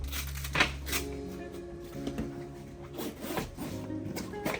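A fishing tackle bag with Glide Tech zippers being unzipped, a scratchy sliding rasp with a few short clicks and rustles, close and quiet.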